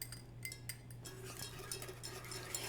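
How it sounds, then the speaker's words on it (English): Soft metallic clinking and scraping of a whisk in a pan as butter is worked into a sauce, a steady faint rhythm of light taps over a low kitchen hum, no voices. "We're going to go ahead and whisk this until all the butter is melted and that sauce is nice and smooth"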